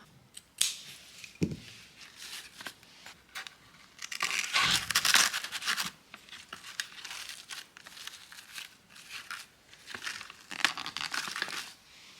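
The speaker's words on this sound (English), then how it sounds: "beautiful white wrapping paper" White wrapping paper crinkles and rustles while a gift is being wrapped, in close, irregular bursts of handling with a louder crumpling stretch in the middle.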